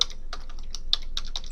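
Quick keystrokes on a computer keyboard, about eight crisp clicks tapped in an uneven rhythm, close and clear in a quiet room.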